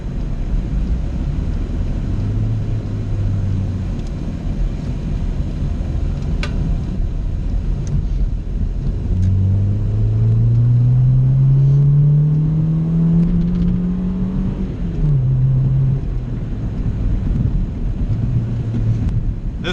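Honda EK hatchback driving at steady speed with a low engine drone that rises in pitch as it accelerates through a gear, then settles, with wind and road rumble throughout and no talk.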